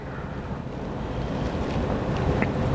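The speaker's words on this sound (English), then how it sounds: "Continue to synchronize your breath with the rhythm, that natural rhythm of the ocean waves." Ocean waves washing in a steady, continuous roar of surf, broad and unbroken, mixed with wind buffeting the microphone, with no voices.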